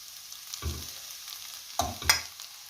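Sauerkraut tipped into a pan of frying carrot and onion, with a quiet background sizzle broken by three distinct thumps and scrapes of stirring, the last two close together.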